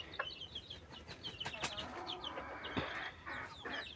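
Chickens on a home poultry farm cluck and chirp in short repeated calls, close and fairly quiet, several birds overlapping with no one speaking.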